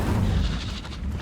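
Incendio fire spell cast in Hogwarts Legacy, a short loud booming burst with a whooshing roar that fades over about a second.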